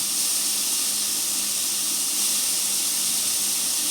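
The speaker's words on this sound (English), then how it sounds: "You can hear it sizzle." Bacon fat renders in a hot pan with an unbroken, loud hissing sizzle. The sound stays close and constant, with no talk over it.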